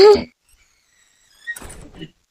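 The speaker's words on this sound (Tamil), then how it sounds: "டோர் துறக்கிற மாதிரி சவுண்ட் கேக்குது?" A door in a home gives a single loud thunk at the start, then a pause before someone talks briefly.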